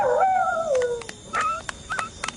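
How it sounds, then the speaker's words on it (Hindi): A dog in a horror story soundscape lets out a drawn, falling howl-whine, followed by several short yips and whimpers, close and fairly loud with no talking. "किसी कुत्ते की आवाज आई।"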